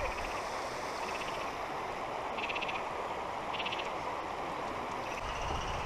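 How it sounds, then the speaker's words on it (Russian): Frogs croak near a stream in Turkey, their rattling calls repeating in short bursts over the steady rush of flowing water, moderately close and fairly faint. "Тут лягушки квакают одни"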